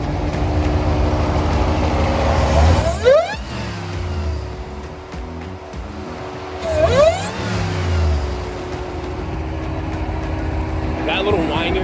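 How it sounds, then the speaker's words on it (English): A supercharged Hellcat-engined Jeep Gladiator revs loudly up close, with two sharp throttle blips rising and falling over a rumbling idle and a thin supercharger whine riding on top. "That little whine you're hearing, that's the supercharger."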